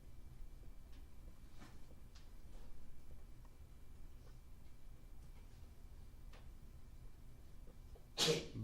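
A single sharp sneeze bursts out near the end of a quiet classroom during a math lesson, close and loud against a low, steady room hum.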